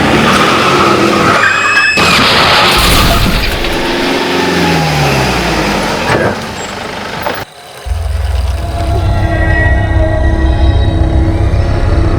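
Car tires skidding on a road during a near collision, a loud harsh screech with engine noise, followed by a lower steady vehicle rumble.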